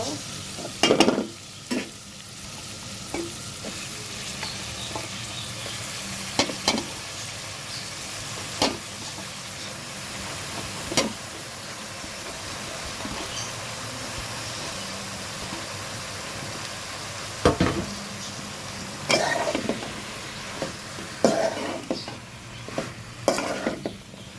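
Shrimp and vegetables fry in a pan, with a continuous close sizzle broken by repeated stirring strokes and scrapes of a utensil against the pan.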